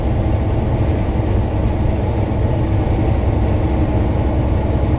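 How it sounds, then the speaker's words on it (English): A Southern freight tanker train rumbles past up close, a loud continuous roar of heavy wheels and rolling tank cars, steady throughout. "Southern tanker train."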